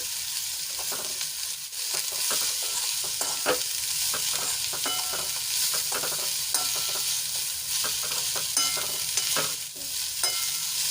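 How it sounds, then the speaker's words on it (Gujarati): Sliced cabbage sautéed and stirred in a pan for a Gujarati thali, with continuous close sizzling and repeated sharp spatula scrapes and taps at an irregular rhythm. "તો કોબીજને આપણે એક મિનિટ માટે સાંકળી લઈશું આ રીતે હલાવીને"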